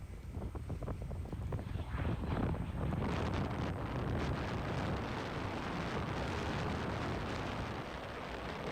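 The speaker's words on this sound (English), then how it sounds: "It's super, super windy," Strong gusty wind roars steadily across the microphone at a dry-lake airfield during a STOL fly-in, a loud, continuous broadband rush with buffeting that fills the whole stretch and masks other sounds.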